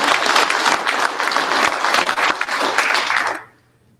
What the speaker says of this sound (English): So round of applause for those guys.